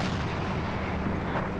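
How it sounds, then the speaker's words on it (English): German 88 mm gun in a Forgotten Hope WWII game on the Operation Goodwood map, heard as a dense, loud, continuous roar of heavy artillery fire with no clear gaps. "I can drive the 88 and you can shoot."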